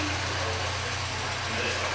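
A car engine idles steadily nearby with a low constant hum and faint background noise, no changes in pitch across the short stretch.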